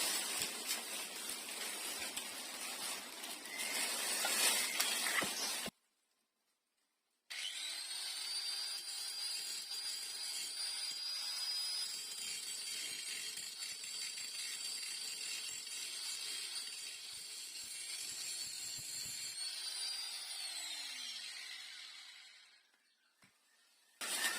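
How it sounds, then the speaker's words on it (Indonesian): An angle grinder smoothing weld seams on a refrigerator compressor, a steady high whine running for several seconds, a brief silence, then a long even grind that winds down at the end. "selanjutnya saya akan rapikan las-lasan yang kurang rapi ya. Saya gerinda dulu."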